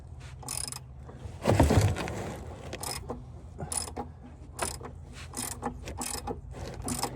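Socket wrench ratcheting on oil pan bolts of a car during clutch and oil pan work: a series of quick, bright clicking bursts spaced irregularly, with a louder clunk early on, close by and without talk.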